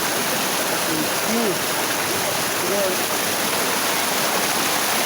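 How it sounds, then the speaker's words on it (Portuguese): A small waterfall rushes in a steady, loud broadband roar throughout, with faint voices murmuring underneath. "Água, piscininha aí, ó. Cachoeirinha top aí, ó."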